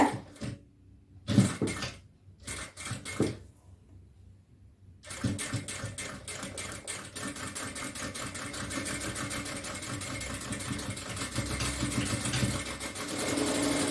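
A sewing machine stitches fabric in a nighty-making stitching practice, running as a steady close mechanical whir after a few short stop-start bursts, with no talk over it.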